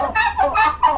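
Farm fowl, turkeys and a chicken, calling nearby in three loud nasal clucking bursts that come one after another with short gaps, clear and close with no talk.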